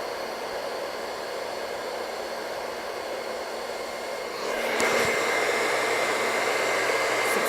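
A handheld hair dryer blows a steady, loud whooshing hum while drying rolled hair, with a slight rise in airflow and a click partway through as the cold shot engages.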